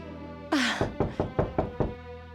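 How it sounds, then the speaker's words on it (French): Knuckles rap on a door in a short burst: about six firm, evenly spaced knocks, close and distinct, with a brief louder rustle before them and no talking. "Je vais aller voir qui frappe à la porte."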